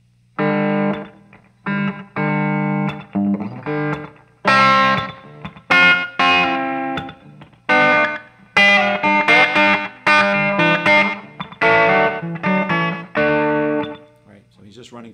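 Distorted electric guitar strums a verse chord progression in short rhythmic bursts with gaps between, up close and dry.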